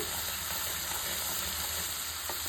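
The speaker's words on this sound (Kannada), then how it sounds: "ಸ್ವಲ್ಪ ಸಾಸಿವೆ, ಜೀರಿಗೆ, ಶುಂಠಿ ಬೆಳ್ಳುಳ್ಳಿ ಪೇಸ್ಟು ಹಸಿ ಸ್ಮೆಲ್ ಹೋಗೋವರೆಗೂ ಈ ಥರ ನಾವು ಎಣ್ಣೆಲಿ ಫ್ರೈ ಮಾಡಬೇಕು." Mustard seeds, cumin and ginger-garlic paste fry in hot oil, giving a steady, close sizzle and hiss with no talking.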